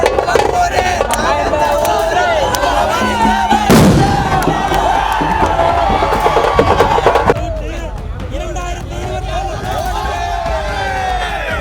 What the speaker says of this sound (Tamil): வெடிக்கிறது பட்டாசு தான்